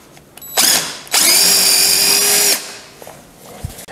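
A power drill bores into a wooden gliding rocker in two close bursts, a short spin-up and then a longer steady whine of about one and a half seconds, with a quiet workshop around it.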